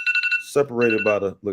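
A phone alarm rings as a short run of repeating electronic beeps, then stops as a voice starts talking over the end of it.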